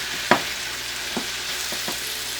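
A pan deglazed during a beef braise gives off a steady hiss and sizzle, with a few soft scrapes and stirring knocks in the pan.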